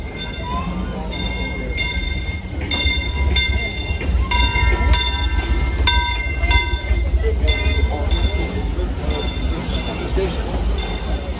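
A Disneyland Railroad train rolls along the rails with a constant low rumble and repeated metallic clicks and squeals, while indistinct voices murmur underneath.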